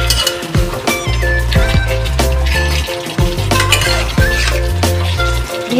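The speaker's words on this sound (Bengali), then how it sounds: "দিয়ে ভালো করে এটা মাছগুলো মিশিয়ে দিলাম" Fish being stirred into a curry in a pan, with a spoon repeatedly clinking and scraping against the metal pan in a close, busy rhythm over soft bubbling, with music playing underneath.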